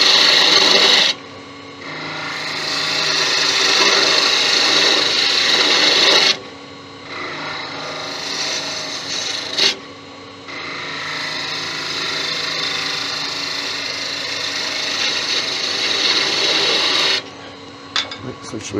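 A pizza wheel handle being shaped on a wood lathe with a detail gouge: long, steady scraping and rasping cuts broken by short pauses, loud and close, with speech around the tool noise.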